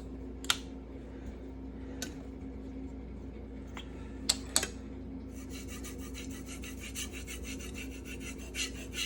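A knife blade sharpened on a Venev resin-bonded diamond finishing stone, with faint scattered rasping strokes, a few sharp clicks, then a steady run of quick rhythmic rubbing passes, quiet and close.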